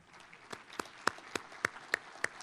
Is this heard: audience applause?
yes